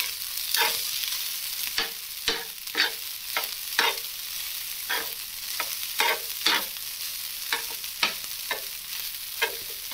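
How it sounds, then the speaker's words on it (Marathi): Leftover rice from the night before being reheated and stirred on the same griddle just used for an omelette: repeated scraping stir strokes in an irregular rhythm over a steady soft sizzle, close up, with no talking. "त्याच तव्यामध्ये मी हा रात्रीचा भात होता तो आता गरम करतीये"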